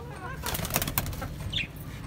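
A short burst of wing flapping from pigeons taking off nearby, with faint cooing-like chirps in the background.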